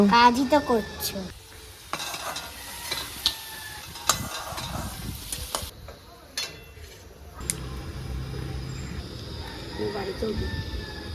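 Whole garam masala, cumin seeds, bay leaves and dried chillies sizzling in hot oil at a village picnic cookout, with scattered clinks and stirring scrapes of a utensil in the pan while someone talks and laughs over it.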